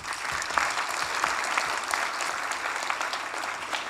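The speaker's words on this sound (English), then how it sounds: "Let's give her another round of applause." Audience at a tenth-anniversary tribute event for Karpal Singh giving a sustained round of applause, a dense, even clapping from a sizable crowd that stays steady for the full four seconds.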